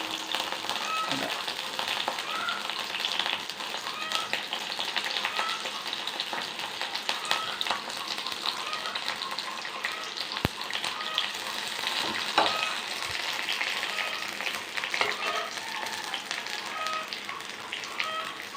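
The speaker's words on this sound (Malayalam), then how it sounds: "നമുക്കിതിൽ ചെറിയ ഉള്ളി ഇട്ടിട്ട് ഒന്ന് മൂപ്പിച്ച്" Small onions fry in oil on top of a prawn and jackfruit seed masala curry, giving a steady, close, crackling sizzle that runs unbroken and evenly loud throughout, with no talk.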